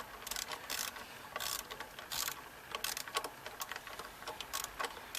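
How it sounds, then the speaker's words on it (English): A socket ratchet loosens a motor mount bolt on a Toyota Camry engine, making bursts of quick metallic clicking at close range, repeating in several strokes with no talk. "Maybe if you use a deeper socket, it'll be better."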